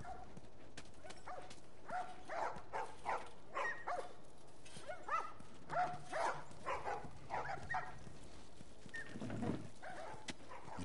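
A dog in the video game The Last of Us barks repeatedly in a series of short, sharp yaps spread across the scene, fairly close and moderately loud, with a low thud near the end.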